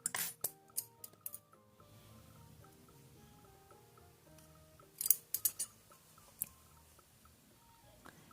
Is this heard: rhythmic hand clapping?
no